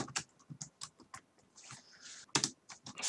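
Someone types on a computer keyboard during Java programming, producing faint, irregular clicks in small bursts, with a short soft rustle between the keystrokes.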